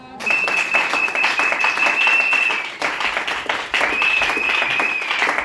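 A church congregation applauding and cheering in praise, loud sustained clapping with shouts and a high held tone over it, briefly dipping midway.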